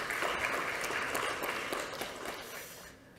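Audience applause welcoming a speaker at a lecture on North Korean nuclear strategy, a dense, steady wash of many hands that swells near the start and tapers off in the final moments.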